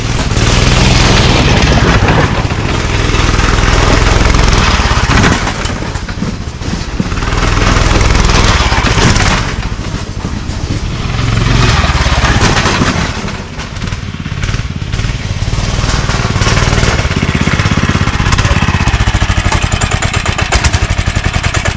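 A racing mower built from a lawn mower, capable of about 25 mph, runs its engine loudly and steadily, with a continuous rough drone that surges and dips throughout, with no talking.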